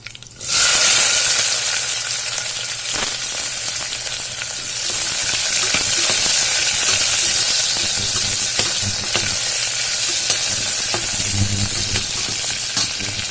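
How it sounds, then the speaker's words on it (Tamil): Mustard seeds, curry leaves and onion fry in hot oil in a Tamil home kitchen while ration rice paruppu sadam is being made, giving a steady loud sizzle with crackling spatter that holds for the whole stretch, with no talk. "எண்ணெய் காஞ்சிருச்சு, கடுகு போட்டுருங்க. கருவேப்பிலை, வெங்காயம்,"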